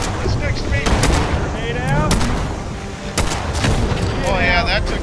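Sharp, loud gunshots crack through a Fallout 76 fight against the Mothman, with bursts repeating in quick succession while players talk excitedly over the firing.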